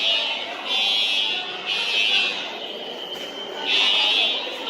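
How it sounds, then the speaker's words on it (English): Fire alarm going off at lunch in a building: a shrill electronic buzzing tone in bursts with short gaps, loud and close, with voices faintly underneath. "Is the first time ever the fire alarm has gone off at lunch."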